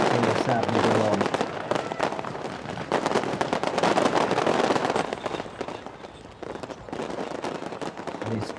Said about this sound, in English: as the fireworks go off again